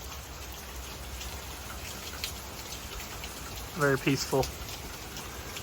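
Steady rain falls on a rainy day during wheat harvest season, a soft continuous patter under a quiet voice that speaks briefly near the end.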